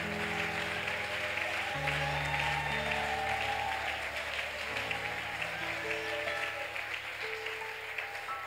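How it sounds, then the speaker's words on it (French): A church congregation applauds and cheers in praise of the Lord, a dense, steady wash of clapping with a few cries, held at an even level over a sustained backing tone throughout. "est-ce que vous pouvez acclamer le Seigneur?"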